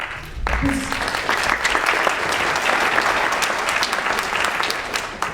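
A town hall audience gathered over a proposed Fairfax casino breaks into sustained applause, dense steady clapping from many hands filling the room at a loud, even level, with a brief voice at the start.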